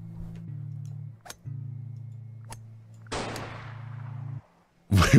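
A gunshot from a golf video game where the ball carries a gun: a sharp crack over a low electronic hum, then a second loud blast near the end.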